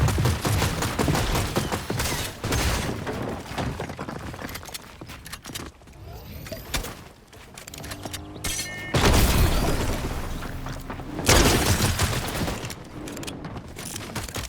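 Revolver gunfire in Fortnite during a player fight, several loud bursts of shots and booms in separate clusters with quieter gaps between them, mixed with other game effects.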